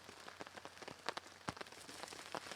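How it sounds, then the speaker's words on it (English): Heavy rain pours steadily in a soaked forest, a dense even hiss of drops with scattered louder patters and splashes close by. "Even though everything is soaked and it's pouring rain, there's still plenty of good wood out there."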